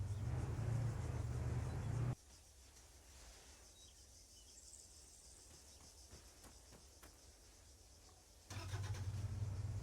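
Truck engine in Arma 3 rumbling loudly while towing a Humvee, heard at the start, dropping out to a quiet stretch with faint insect-like chirping, then returning for the final second.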